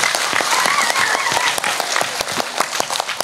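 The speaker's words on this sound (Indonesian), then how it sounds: "Tepuk tangan untuk Jatilawang, keren." Audience applause at an Islamic religious study gathering, a dense, steady wash of many hands clapping at close range with no talk over it.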